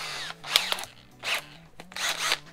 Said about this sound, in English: This is just a little 60 or 80 grit flap wheel.